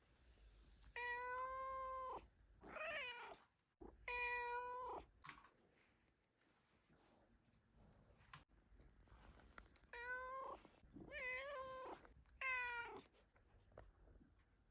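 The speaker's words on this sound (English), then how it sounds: "Time to irritate my cat, Dave." A domestic cat meows and caterwauls in several long, drawn-out wails with pauses between them, loud and close, with no talking over it.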